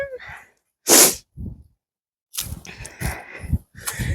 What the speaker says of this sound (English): Sorry for the sniffling and the heavy breathing that you're probably hearing